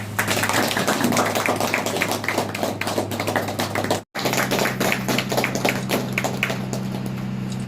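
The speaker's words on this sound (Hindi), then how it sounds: "ताली।" Clapping at a farmers' meeting: dense, steady rapid claps from a group, loud and close, with a brief cut midway before the applause continues.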